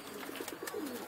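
Pigeons, fed bread outdoors, give a short run of soft, rhythmic coos at close range, several pulses in under a second.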